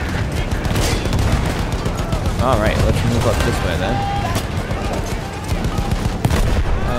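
Battlefield 1 game combat with field guns: rapid rifle and machine-gun fire crackles in bursts, heavy booms land now and then, and someone talks over the battle noise.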